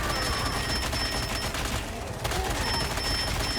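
Rapid continuous gunfire from Punisher in Marvel Rivals, a dense unbroken stream of shots with a brief dip in the middle, loud and close over game sounds.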